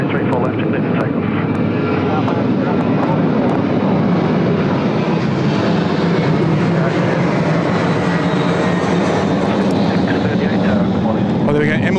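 An Emirates Airbus A380 on its takeoff roll at Sydney Airport, a loud, sustained broadband engine roar holding steady across the whole span, with voices talking over it.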